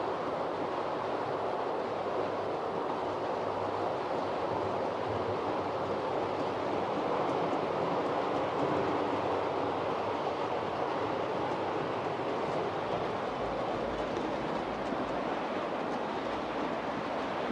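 A model railway locomotive running on track at a home layout, a continuous rumbling, rushing drone that holds steady and close throughout, with no talk.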